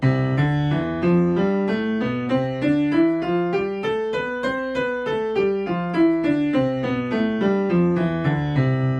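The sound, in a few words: piano, right hand loud, left hand soft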